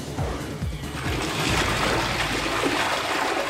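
A Sésame wall-hung toilet is flushed using its 3 or 6 litre button, giving a loud, continuous rush of water that swells after the first second and then keeps splashing and gurgling steadily.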